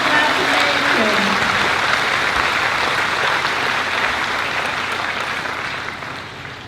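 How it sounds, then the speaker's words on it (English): A commencement audience gives a sustained round of applause, dense and steady close up, slowly thinning and tapering toward the end, with some voices mixed in early on. "let's give them all another round of applause"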